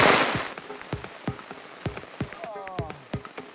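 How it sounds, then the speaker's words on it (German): During a storm with rain, a gust of wind is followed by irregular, sharp raindrop taps on a hard surface, scattered and close. "Der Sturm, inklusive Regen, hat Ausmaße angenommen."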